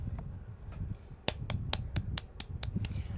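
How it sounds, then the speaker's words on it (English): One person claps about eight sharp, evenly spaced times close to the microphone, each crisp slap standing out over a low room hum and soft background rumble. "That's me clapping"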